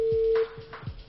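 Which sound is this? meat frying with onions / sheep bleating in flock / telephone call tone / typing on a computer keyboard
telephone call tone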